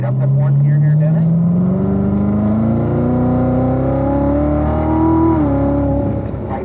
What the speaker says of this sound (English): unwind, accelerate up to fourth gear here, Dennis